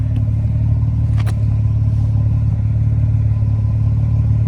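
The engine of a 2003 Ford Mustang New Edge runs at a steady low idle, a constant rumbling hum heard close with no talk.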